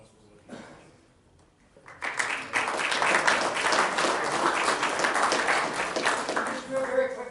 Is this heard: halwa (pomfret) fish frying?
no